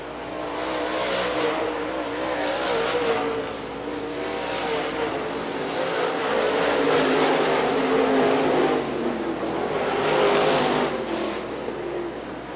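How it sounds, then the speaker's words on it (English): Late model race cars on the I-96 Speedway roar through a heat race of the American Ethanol Late Model Tour, a loud sustained engine drone that swells and fades as the pack passes, with no voices. "Halfway home here in heat race number 1 for the American Ethanol Late Model Tour."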